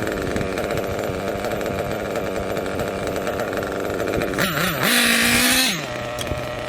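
A nitro RC engine running rich during needle tuning buzzes steadily and loud throughout, then rises briefly to a sharper, higher-pitched whine near the end before dropping back to its rough idle-like drone.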